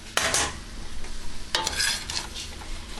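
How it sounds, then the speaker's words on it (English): Cooked chicken and sausage go back into a pot of gumbo and get stirred, a couple of close scraping, sloshing bursts against the pot with a soft simmer underneath. "I'm going to add my cooked meat back to the pot."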